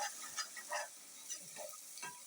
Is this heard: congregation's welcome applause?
no